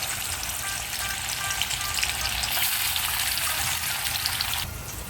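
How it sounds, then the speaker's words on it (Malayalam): Seer fish pieces fry in hot vegetable oil in an iron kadai, making a continuous broad hiss that swells briefly midway and drops quieter just before the end. "ചൂടായ എണ്ണയിലേക്ക് നെയ്മീൻ പീസസ് ഇട്ട് വറുത്തെടുക്കാം."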